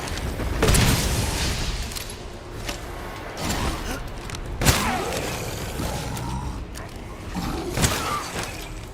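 A grenade goes off in Resident Evil Village, giving a deep boom near the start and then several more thuds, crashes and debris rattles rolling on across the following seconds amid mechanical game noise.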